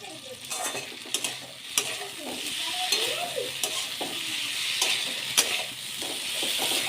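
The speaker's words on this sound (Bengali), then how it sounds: "লাল লাল করে পুরো ভাজা হয়ে গেছে। এবার কিন্তু আমি এর মধ্যে মশলাটা দিয়ে দেবো।" Spices frying and being stirred into fried vegetables in a pan while cooking shukto, a steady sizzle under repeated scraping and clinking of a spoon against the pan, close and fairly loud, with no talk.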